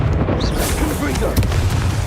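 Confringo fire-blast spell erupting in Hogwarts Legacy, a dense, booming burst with crackling spread that fills the clip, rumbling low beneath overlapping voices and game noise.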